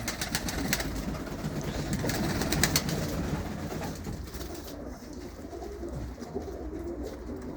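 Racing pigeons in a loft in Sheffield coo and flutter close by in a busy, continuous murmur, with bursts of wing clatter early on.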